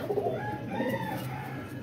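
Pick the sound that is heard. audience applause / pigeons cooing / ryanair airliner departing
pigeons cooing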